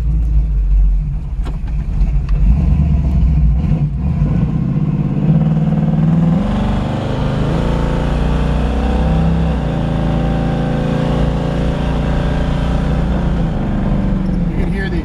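A 1970 Chevrolet Camaro with a big lumpy cam pulls away, its engine rumbling loudly and revving up as it gets rolling, then settling into a steady drone, with someone talking over it.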